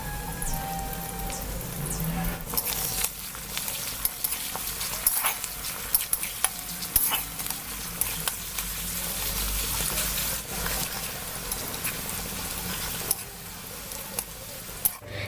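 Finely chopped onions fry in hot oil with a little salt and sugar, making a steady hiss broken by frequent scraping stirs and clatter.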